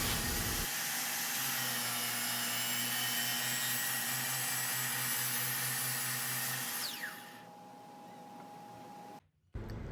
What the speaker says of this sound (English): at the router table, and using rabbiting bit, I cut I think it's 1/4 inch rabbet